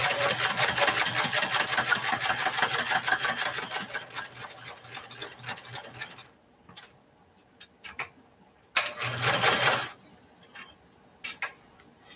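A sewing machine stitches a fabric heart pillow in a fast, even mechanical whir for about six seconds, then runs in short separate bursts between pauses.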